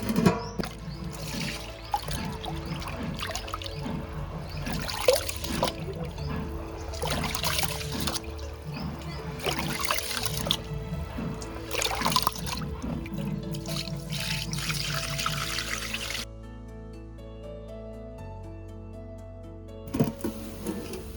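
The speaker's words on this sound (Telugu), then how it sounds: "ఎసురు కాగినాయి, మంచిగా తెరలుతున్నాయి." Water heats to a boil in a covered pot for veg biryani, a steady bubbling simmer with repeated soft rattling pulses, close and moderately loud, fading to a quieter hum near the end.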